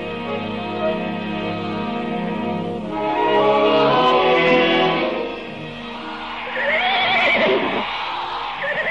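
A horse neighs and whinnies at length, loud and close, its calls rising and falling over about nine seconds with no speech.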